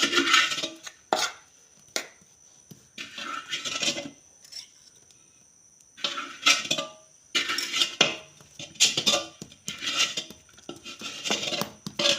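A knife cuts through a sweet that has set in a pan, giving repeated bursts of scraping and metallic clinking against the pan's surface, separated by short quiet pauses.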